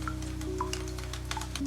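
Steady rain falls on an Edo-period row house as an even hiss, with a few soft, scattered drips over a constant low hum and no voices.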